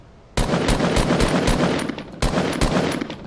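Gunfire in the Fortnite video game aimed at a cube: after a brief quiet start, two bursts of rapid automatic shots crack out close and loud with a short pause between them.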